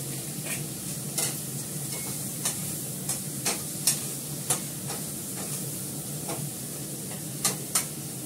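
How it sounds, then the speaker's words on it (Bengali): Garlic fries in oil in a pan over low gas, making a constant loud crackling sizzle with light, regular ticks and clinks of a spatula stirring near the mic. "সঙ্গে আমি রসুনটাও দিয়ে দেবো।"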